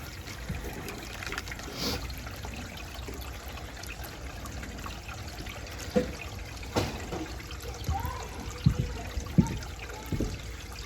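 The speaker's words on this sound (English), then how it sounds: "So we'll let this drain until it's completely empty." Soapy gray water drains from one of the gray tanks on a Jayco 27BHB travel trailer, a steady low trickling gush with occasional gurgles and splashes, heard close up and without talk.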